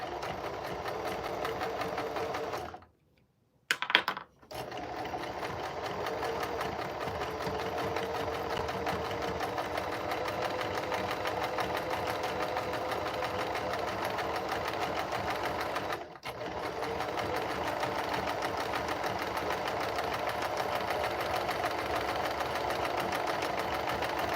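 A sewing machine stitches fabric pieces in long continuous runs, a steady rapid mechanical chatter close by, with a brief stop and restart early on and a short hitch midway.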